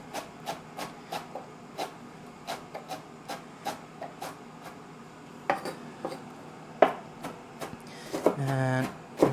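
A knife chops fresh herbs finely on a board, a run of crisp evenly spaced taps, close and moderately loud, with some louder clatter and a rough scrape near the end.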